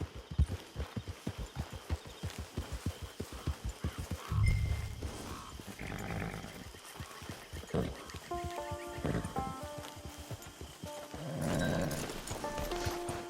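Horse hooves in the video game Red Dead Online: a quick, steady clip-clop of trotting hooves up close, slowing into scattered steps and snorts, with faint music notes and ambient wildlife behind.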